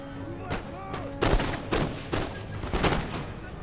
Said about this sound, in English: All those militia shooting at one man.